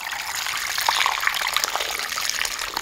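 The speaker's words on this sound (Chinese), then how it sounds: "倒入适量的水" Water pours into a pot for cooking, a steady splashing trickle with small bright droplet sounds, close and moderately loud, with no talking.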